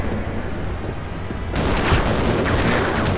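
A dense burst of rapid video game gunfire in Half-Life erupts halfway through after a low steady rumble, continuing loudly with sharp crackling shots.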